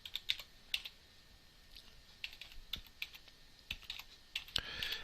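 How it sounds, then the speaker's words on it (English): Someone types on a computer keyboard at close range, producing a run of crisp, irregular key clicks with short pauses between bursts and no voices. "I can just type it in"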